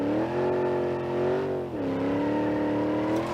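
The Granny Cart V1 project car in BeamNG.Drive spins its tires while accelerating. A loud, close engine drone holds a high rev, dips briefly as a gear changes, then climbs steadily again without any talk.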